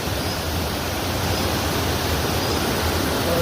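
A river flows beside a bridge under construction, making a continuous loud, close rushing of water with no pauses or voices.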